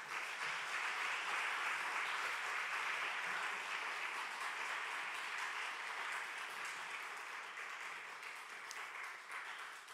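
Sustained applause from a church congregation welcoming a pastor to the pulpit at an afternoon worship service, a steady dense wash of many hands clapping for the full length, with no talking over it.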